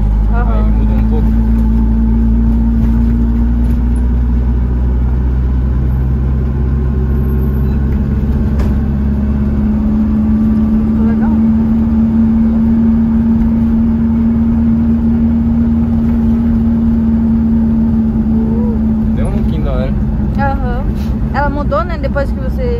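An old Fiat 147 idles at low rpm with a loud, steady, low engine drone. People talk over the engine throughout.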